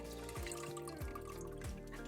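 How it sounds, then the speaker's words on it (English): Water pours and gurgles close by as it is poured out of a garbage disposal, with a few drips and sloshing splashes over a couple of seconds. "pour the water out of the disposal"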